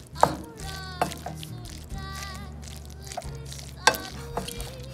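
Butter being stirred into a pot of mac and cheese, giving soft, sticky squelching and stirring noises with a few sharper clicks as the spoon meets the pot, over a low steady hum.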